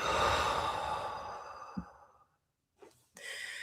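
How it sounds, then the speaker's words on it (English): One person takes a long, deep breath, then a slow, audible exhale that fades to silence, followed by a short second breath sound near the end, close and quiet. "We're going to take a deep breath in and out."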